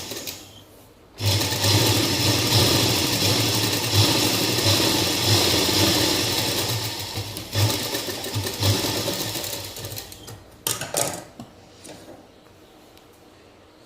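A sewing machine runs in a steady, loud burst while stitching the pocket of a straight palazzo, whirring continuously for about nine seconds before slowing into a few short stops and starts.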